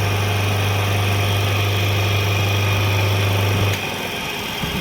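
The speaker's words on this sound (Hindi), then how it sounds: "ये चालू हो गई है मोटर। दोस्तों ये क्लॉकवाइज मोटर घूम रही है अभी वर्तमान में।" A single-phase electric motor with a centrifugal switch running clockwise gives a loud, steady mains hum with a faint whine. Near the end a click sounds and the hum drops as the switch acts.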